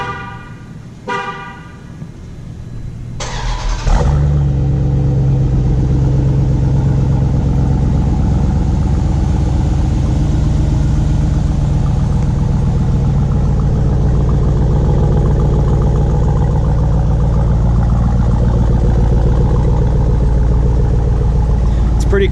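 A 500-horsepower 2018 Dodge Durango SRT engine cranks and catches after a few seconds of quiet talk, then settles into a loud, steady, rumbling idle that continues to the end.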